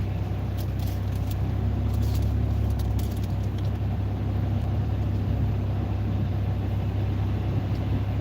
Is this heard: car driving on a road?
yes